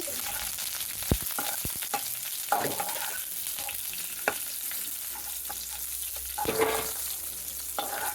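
Dried red and green chillies sizzle in hot oil for a Bengali vegetarian tempering, a steady bright crackle with scattered pops and occasional stirring knocks, close and fairly loud throughout.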